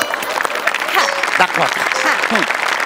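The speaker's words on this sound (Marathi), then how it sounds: "म्हणजे अरुण कदमांना टाळ्या." A studio audience at a Marathi comedy show applauds for Arun Kadam, loud continuous clapping close to the microphone, with cheers and lively voices calling out over it.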